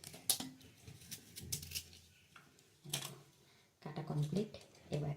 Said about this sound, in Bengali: আর ছুরিটা প্রচণ্ড ধার, এটাকে আস্তে আস্তে কাটতে হবে